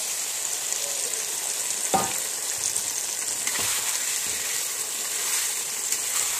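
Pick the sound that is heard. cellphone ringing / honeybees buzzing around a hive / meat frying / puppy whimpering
meat frying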